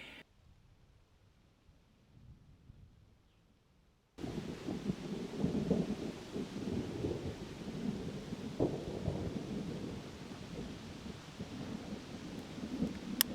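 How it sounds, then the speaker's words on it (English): Thunderstorm with pouring rain heard from inside a parked car at a campsite, a steady loud rush of rain and low rumbling thunder that begins abruptly after a few seconds of muffled quiet and continues throughout, with no talking. "We are in the car waiting out a thunderstorm."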